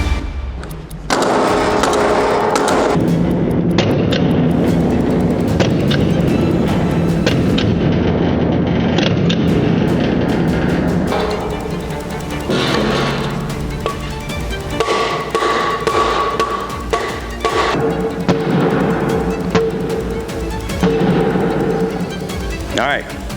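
A Sig Sauer pistol fitted with a Romeo X red dot is racked against a 2x4 and struck repeatedly, giving loud irregular wooden knocks and metallic bangs, close up, over a long stretch with pauses between impacts.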